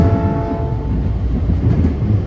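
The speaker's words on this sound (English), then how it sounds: "Those Union Pacific locomotives probably brought a Powder River Basin coal train to the power plant in Michigan City." Union Pacific locomotives hauling a coal train in Michigan City, Indiana: a loud, close, steady rumble of diesel engines and rolling cars with a sustained tonal drone in the opening second, no voices.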